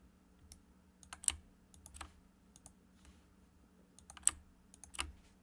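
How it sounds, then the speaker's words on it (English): Sparse keystrokes tap on a computer keyboard in a quiet room, a few scattered clicks with brief pauses and some sharper strikes, over a faint steady hum. "He's typing."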